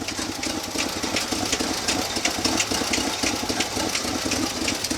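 Idling V8 in a 1965 Chevy C10 pickup with a fast, even ticking from the top end, rhythmic clicks riding over a low steady rumble, close and constant for the whole stretch with no talking.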